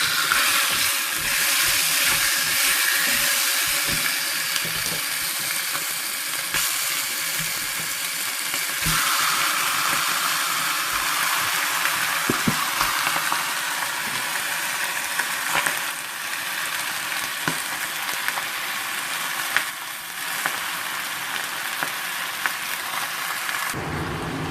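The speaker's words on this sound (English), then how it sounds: "I had to turn on the extractor, so you hear that noise in the background." Meat frying and being stirred in a pan gives a dense, continuous sizzle, with a kitchen extractor fan humming steadily underneath, close and fairly loud for the whole stretch.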